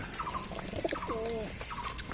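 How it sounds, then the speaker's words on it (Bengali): A Kaldom pigeon in a breeding loft coos in a few soft, low warbling notes, close by over a busy background of rustling and faint chatter from other birds. "দেখেন এটা হচ্ছে কালদম কবুতর"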